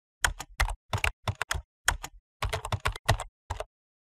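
Commands being typed on a computer keyboard, a close, fast run of crisp key clicks in short bursts with brief pauses, alone without talk.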